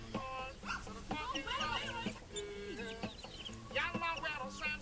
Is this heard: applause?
no